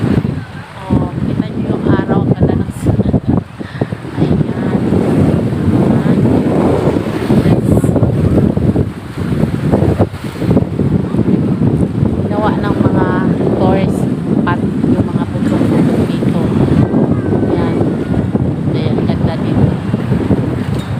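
Gusty wind buffets the microphone in a steady rush while people talk over it.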